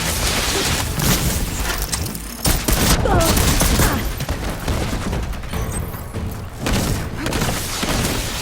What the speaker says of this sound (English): I love this cannon!